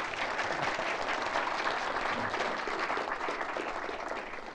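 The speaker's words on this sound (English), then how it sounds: "Please give a round of applause for Dr. Brown." An audience at a Portland Community College campus panel event claps steadily, dense and fairly close, sustained for several seconds before tapering slightly at the end.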